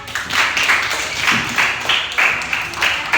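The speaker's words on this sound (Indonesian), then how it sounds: "Tepuk tangan Mbak Arya." A group in a classroom gives a round of applause, with clapping that comes in uneven bursts and swells rather than as one smooth wash.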